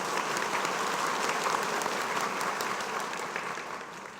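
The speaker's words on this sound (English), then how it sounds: "They deserve a clap." An audience at a school debate event gives a sustained round of applause, dense even clapping that fades slightly toward the end with no speech over it.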